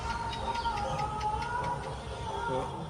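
Pigeons in a rain-soaked pigeon loft coo softly and steadily at close range, and a voice can be heard faintly alongside them.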